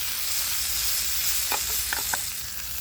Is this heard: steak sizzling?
yes